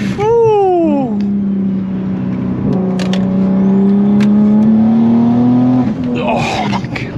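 An 830 whp BMW M240i accelerating hard, its engine climbing in pitch through quick upshifts and then holding a long, loud rising pull close by, with excited voices over it.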